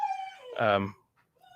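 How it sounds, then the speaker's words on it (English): A house dog lets out a single loud, drawn-out bark that trails off, preceded by a voice and followed by quiet. "And that's the dog."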